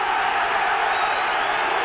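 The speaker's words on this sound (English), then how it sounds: "And again, the crowd delighted." A large stadium crowd cheers and roars loudly and steadily throughout a 1989 rugby union test match between Neath and the All Blacks.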